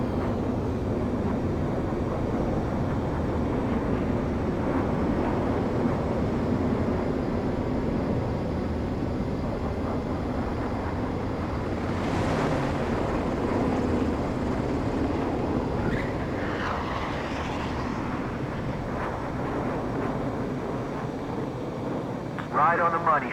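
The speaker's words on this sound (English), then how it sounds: "Strider 1 has landed." A fighter jet lands on a runway in the video game Ace Combat 7, its engine a steady broad roar that holds for many seconds, with faint radio voices talking over it.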